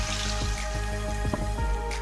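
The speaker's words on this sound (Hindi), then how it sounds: "पानी शामिल करूँगी इसमें मैं" Water splashes and gurgles into a pan of mutton with bubbling, dripping sounds, close and fairly loud, over a low background hum.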